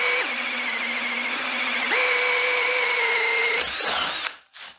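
Ryobi cordless hammer drill on high with a 1.5 amp hour battery, boring with a 5/8 inch Daredevil bit: a loud steady motor whine that dips briefly then rises in pitch under load before cutting off abruptly.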